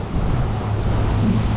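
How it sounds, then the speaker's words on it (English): A waterfall on the Colorado River in the Grand Canyon gives a loud, steady rushing roar of falling water, mixed with wind buffeting the microphone. "Look at that waterfall."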